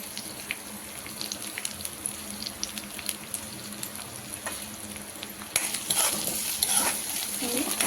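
Crushed garlic and curry leaves frying in oil in a pan for idli karam, a close, steady sizzle with crackles that grows louder and brighter partway through.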